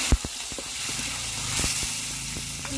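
Chopped tomato dropped into hot oil spiced with dried red chilli, bay leaf, five-spice and onion, giving a steady loud sizzle and hiss with a few sharp clatters of utensil on pan.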